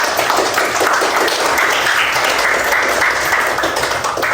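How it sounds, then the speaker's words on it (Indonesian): Children in a classroom clap together in a loud, close, steady burst of applause lasting a few seconds. "Oke, tepuk tangan buat kita semua."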